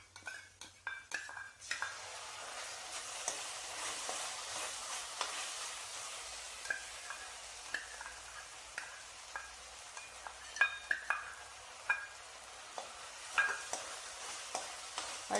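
Tomato sauce stirred into frying Gobi Manchurian (cauliflower) in a pan, with a steady sizzle and repeated scraping clicks of a spoon against the pan, close and alone with no talk.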